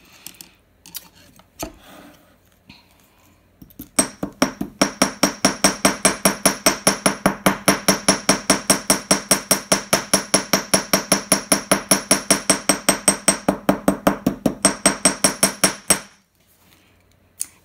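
Rapid, steady metallic hammer taps on jewelry wire on a hard surface, dozens of even strikes in a continuous run lasting about twelve seconds, close and fairly loud.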